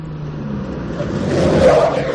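A car engine runs and slowly swells in a radio drama, a steady near rumble that rises toward the end, with no voices.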